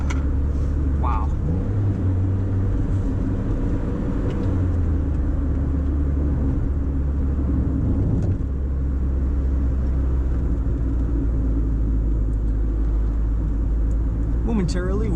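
A Mazda Miata MX-5 roadster cruises along with a low, steady engine drone and road rumble underneath, tire and wind noise constant throughout, with someone talking over it.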